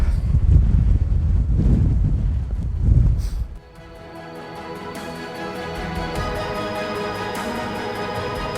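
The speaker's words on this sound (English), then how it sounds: "Windy up here, first place I've been today" Strong wind buffeting the microphone on the summit of Cadair Idris in Wales, loud low roaring gusts for about three seconds, then a sudden drop to a quieter, steadier background hiss.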